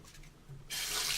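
Tap running warm water into a sink, a faint hum at first, then a sudden steady hiss of pouring water nearby.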